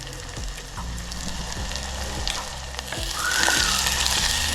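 Onions frying in oil in a pot for chicken curry give a steady sizzle with scattered crackles and pops, growing a little louder near the end, with no one talking.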